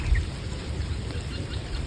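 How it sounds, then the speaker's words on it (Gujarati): Light rain beginning to fall at the Meldi Mata temple in Bid near Sihor, a soft, steady pattering wash over a low rumbling background, with no speech. "વરસાદ છે ને ધીમે ધીમે શરૂ થયો છે"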